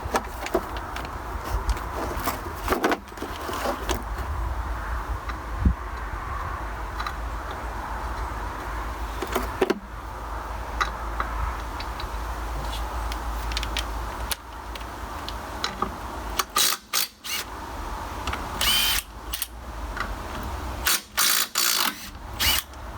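Ratcheting clicks and metallic clanks of tools working to remove a wheel from a mobile sheep race, irregular bursts of mechanical ticking against a steady low outdoor rumble.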